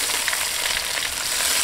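Sliced onions hit hot oil already holding coconut pieces, giving a constant, dense sizzle and crackle throughout with no voices.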